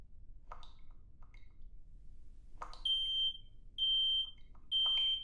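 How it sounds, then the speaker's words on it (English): Smoke detector chirps and beeps in a quiet room, a few sharp clicks followed by three loud, piercing high tones repeating at roughly one-second intervals. "Smoke detector ASMR. I need that to like beep every now and then too."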